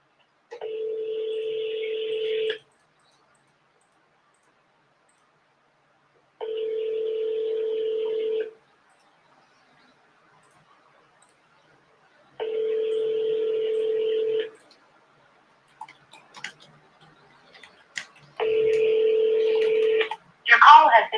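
A telephone sounds steady call tones, four long even beeps of about two seconds each with pauses between, clear and close, with brief rustling and a voice near the end.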